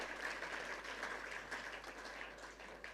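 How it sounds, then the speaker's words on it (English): Applause for keynote speaker Ken Ohene Agyapong at a youth entrepreneurship gathering: a faint, distant, continuous spatter of clapping from the crowd, steady throughout with a low hum underneath. "Applause for our keynote speaker, Honorable Ken."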